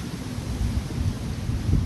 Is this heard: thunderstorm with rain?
yes